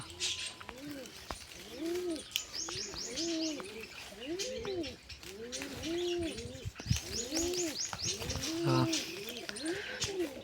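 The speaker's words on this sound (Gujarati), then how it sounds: "બાકી બધા આપડા કબૂતર અહીં ફૂલ મસ્તીમાં છે" Pigeons coo over and over in soft, rolling phrases, several birds close by, with faint chirping from other birds in the background.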